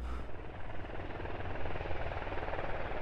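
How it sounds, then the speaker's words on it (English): Helicopter landing in the SquadOps video game: steady, dense rotor chop and turbine roar close by, holding constant throughout without speech. "The helicopter's landing behind the gas tanks"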